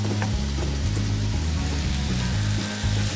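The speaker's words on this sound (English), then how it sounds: "We're gonna saute the patties in this butter." Beef patties sauté in butter in a hot pan, giving a steady, close, dense sizzle and crackle over a low steady hum.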